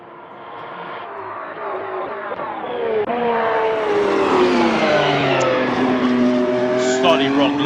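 A 2022 Ferrari F1-75 Formula 1 car engine in the racing game Assetto Corsa roars and revs through rising gears, loud and continuous, with tire squeal and a brief shift dip midway, DRS open.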